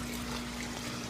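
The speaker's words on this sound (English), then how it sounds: "So then the water comes through here, goes down the drain there" Water flows through aquarium refugium boxes and down a drain, making a continuous close trickling and pouring wash with a steady hum beneath, no talking.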